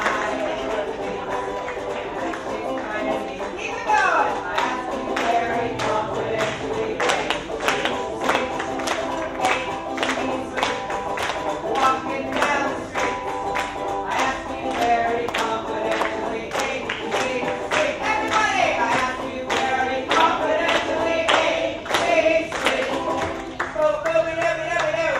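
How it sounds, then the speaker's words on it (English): Hands clap in a quick, steady rhythm through a stage production of The Book of Judith, the claps running continuously under voices and tuneful singing. "Great clapping."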